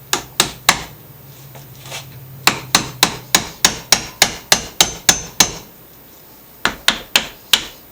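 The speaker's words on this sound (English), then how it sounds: "hammer the damn thing and break the plastic." Sharp hammer blows on a plastic Toro Super Recycler mower wheel to break it apart, a run of loud, evenly spaced strikes, a pause, then another quick burst of hits, with no talking.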